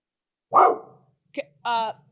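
A dog barks indoors in three separate bursts: a loud bark, a short yip and a final bark, each close by with silence between them.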